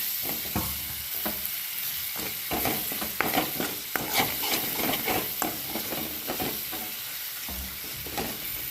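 Home-made masala fries and is stirred in a pan with turmeric and stone-ground red chilli, bringing loud sizzling and repeated scraping, clattering strokes of the spoon throughout.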